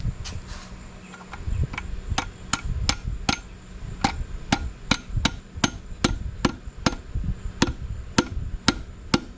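Sharp metallic taps drive a connecting rod bolt into a Willys Jeep F-head engine during a rebuild, a quick string of evenly spaced, close, ringing strikes over low workshop rumble.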